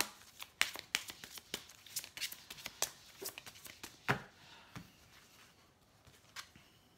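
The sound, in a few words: tarot cards being shuffled and drawn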